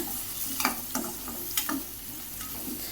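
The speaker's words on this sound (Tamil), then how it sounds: "இப்போ இது எல்லாத்தையும் சேர்த்து நல்லா வதக்கி விட்டதுக்கு அப்புறமா" Turkey berries and spices sauté in a pan with a soft continuous sizzle, broken by a few light stirring scrapes, close but quiet and free of talk.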